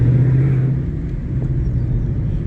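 A car's low, rumbling exhaust note idles and gently revs close by at an outdoor morning car show meet, steady and loud with no talk.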